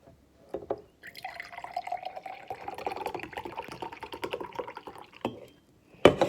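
Fuisti peach iced tea pours into a glass in a close, steady stream lasting about four seconds, with a soft clink and handling noise at the end and no talking.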